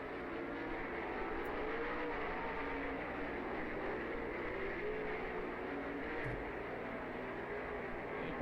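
Sprint cars racing in an A-main at Lernerville Speedway in Sarver, PA, their engines blending into a steady, continuous roar that stays at a fairly even level from some distance.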